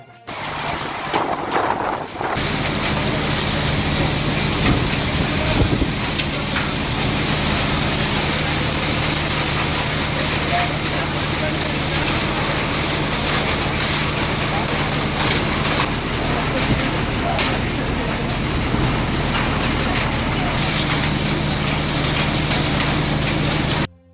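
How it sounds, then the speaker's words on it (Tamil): Heavy hail and rain lash down with strong wind around Senthurai in Ariyalur district, Tamil Nadu, making a dense, loud, unbroken roar that fills the whole stretch without letup. "செந்துறை சுற்றுவட்டார பகுதிகளில் ஆலங்கட்டி மழை கொட்டியது"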